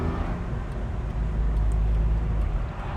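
A 1963 Jaguar MK II four-door saloon cruising along a road, heard from inside the cabin as a steady, soft low engine and road drone with no talking.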